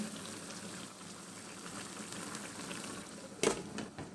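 Water bubbles and simmers in a pot, a soft steady churning hiss, with a brief clink partway through and no talking.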